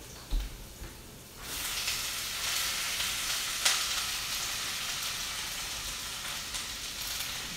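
Kale drops into a hot pan and a steady, fairly loud sizzle and frying hiss starts after a quiet second, holding broadband and continuous with one brief crackle partway through, with no talking.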